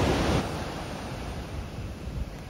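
Ocean waves at Swami's Beach in Encinitas, North County San Diego, a steady broad wash of surf with no single crash standing out.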